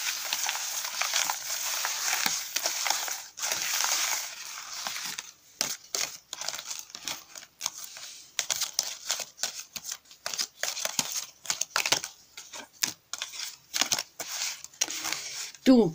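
A tarot-style deck of cards is shuffled by hand, dense papery riffling and slapping at first, then spaced crisp flicks and taps, fairly close and moderately quiet with no talking.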